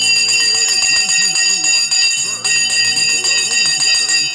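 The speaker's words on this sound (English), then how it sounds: "The bell has gone." A bright, continuous bell ring keeps sounding loudly throughout, with someone speaking over it and one short pause in the middle.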